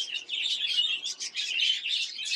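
Baby birds of a large species chirp insistently while being hand-fed, a dense run of high, repeated peeping calls close to the ear, pulsing in short bursts.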